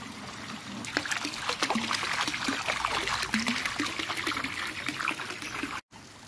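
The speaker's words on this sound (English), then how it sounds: "I'm gonna empty half the treatment in that's in this watering can now" Water treatment pours steadily from a watering can into a garden pond, a continuous close splashing trickle that runs for several seconds before a brief cut near the end.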